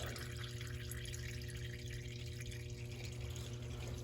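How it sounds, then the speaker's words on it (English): Engine oil draining from a car during winter maintenance, heard as a steady, close liquid trickle and dribble over a constant background hum, with no talking. "So we have basically the last drips coming out."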